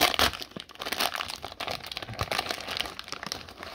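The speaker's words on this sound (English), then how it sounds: "Opening up a 30-year-old pack of baseball cards." A 30-year-old foil pack of 1994 Topps Series 1 baseball cards is torn open close up, with continuous crinkling and crackling of foil wrapper and sharp tearing snaps in quick irregular bursts.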